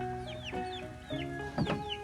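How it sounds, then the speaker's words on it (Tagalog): Chickens cluck close by at a housing site, with several short, sharp clucks and squawks scattered over a quiet, steady background. "Yung mga manok dito."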